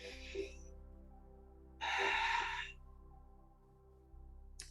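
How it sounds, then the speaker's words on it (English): A single deep breath drawn in and let out during a yoga class, a loud airy inhale standing alone over a steady low hum, with a quieter breath before it. "Take a fuller, deeper breath"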